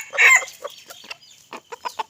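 A young rooster, a seven-to-eight-month-old gamecock, gives a short, strained crow followed by a few choppy clucking notes, close and fairly loud.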